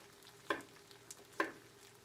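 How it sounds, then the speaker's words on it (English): Two sharp knife chops land on a board while cutting squash and zucchini, separate crisp hits spaced about a second apart, heard close and fairly quiet. "So over here I have some squash and zucchini, and I'm just going to chop that up"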